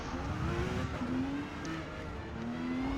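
A Porsche 911 GT2 race start in Forza Motorsport, with engines revving and rising in pitch as cars pull away, a steady mid-level motor whine with gear shifts under a soft background rumble.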